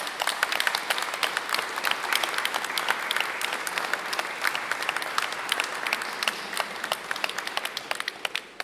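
An audience applauds Adrien, a lighting technician, at a small French community event; dense, steady hand clapping from a modest crowd, moderately close, tapering off with a few last claps at the end.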